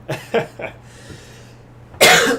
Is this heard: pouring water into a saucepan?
no